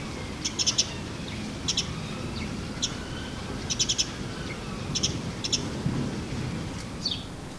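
Sparrow alarm calls from a small bird, short sharp clustered chirps repeating in bursts over a low rumbling outdoor background, moderately near but fairly faint.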